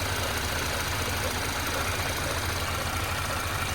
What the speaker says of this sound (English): I hear a bump, bump, bump kind of sound. That is that pulley down there.